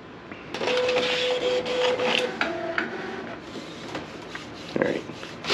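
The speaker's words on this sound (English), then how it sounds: "now you can see it's printing the color" Epson P600 inkjet printer printing a DTF film sheet, a steady whirring carriage drive with shifting motor tones and clicks, close and fairly loud, under a brief voice.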